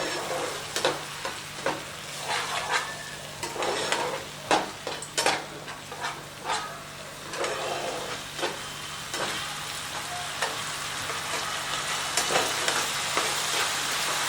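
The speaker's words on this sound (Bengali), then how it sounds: "সব কিছু দিয়ে খুব ভালো করে এটাকে মিশিয়ে নিতে হবে" A paneer satay mixture with sauce is stirred in a hot, sizzling pan. A spoon scrapes and turns it in repeated rhythmic strokes over a steady frying hiss, close and fairly loud.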